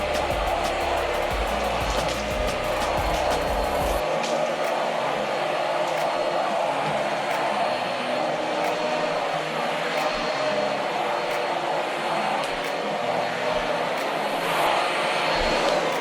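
A GeeMo lightweight vacuum cleaner running with its agitator brush on, picking up popcorn from the floor: a loud, steady motor whine and rushing airflow, with a few sharp rattling clicks at the start as kernels are sucked in.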